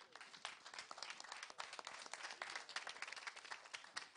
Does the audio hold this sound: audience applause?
yes